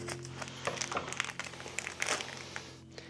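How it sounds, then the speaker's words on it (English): Scissors cut open a plastic pouch holding an inline vacuum filter assembly, giving close, irregular crinkling and rustling with sharp snips over a steady low hum. "you're gonna grab your scissors and just cut that out of that pouch."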